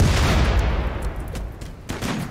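Auto turrets in the video game RimWorld open fire in a dense, continuous volley of rapid gunfire, loud and close, with a brief dip before the shooting surges again.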